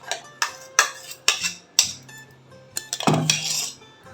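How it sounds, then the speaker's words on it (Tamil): A spoon clinks against a pot as mango puree is stirred into payasam, giving a series of close, sharp metallic taps followed by a rougher scraping swirl, with no talk. "நல்லா கலந்து விட்டுருவோம்"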